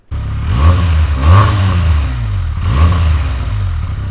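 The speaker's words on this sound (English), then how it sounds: "I don't think there is another 300cc bike that sounds as good as the BENELLI TNT 300." A Benelli TNT 300 300cc motorcycle revs its exhaust close by, the engine note swelling and falling in three distinct rev surges over a deep, grunting idle, with no voices.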